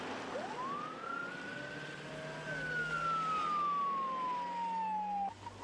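An ambulance siren rises, then sweeps slowly downward in a single long wail that stays steady and prominent over a rumbling traffic background before cutting off abruptly.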